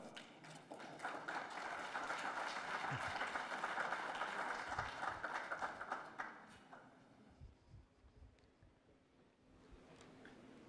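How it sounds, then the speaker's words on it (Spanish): Audience applause welcoming a speaker at a mining hygiene lecture, a sustained wash of clapping for about six seconds that fades into scattered claps and quiet room noise. "Lo recibimos con un fuerte aplauso."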